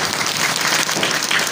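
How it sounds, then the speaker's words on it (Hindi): Steady burst of audience applause at a school education-department event in a village gathering, dense clapping filling the whole moment without speech. "इसके लिए पहले एक जोरदार स्वागत स्वरूप ताली कर दीजिए आप।"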